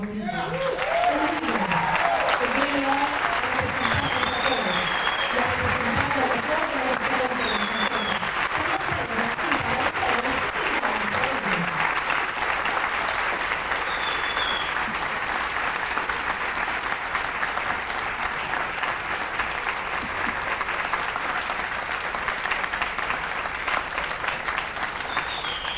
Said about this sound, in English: let's give a big round of applause to Councilmember Ydanis